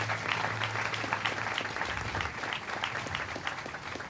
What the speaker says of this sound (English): Let's give her a wonderful round of applause.